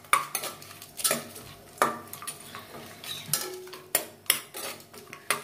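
Cardamom, cloves and cashews fry in a pan as a spatula stirs them, giving repeated close scrapes and metallic clinks in an irregular rhythm over a faint sizzle, with no talking.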